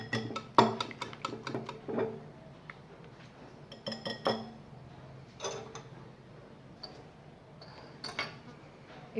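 A utensil stirring beaten eggs with black pepper in a bowl, clinking and scraping against the sides in quick uneven runs of taps, close and fairly quiet, with no talking.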